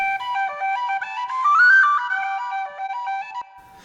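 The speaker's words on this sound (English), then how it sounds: "Now I'm going to solo the whistle to listen to it by itself." A soloed synthetic whistle part from a Band-in-a-Box arrangement plays a bright, melodic line of clear sustained notes alone, stepping up and down with a brief rising slide at the centre.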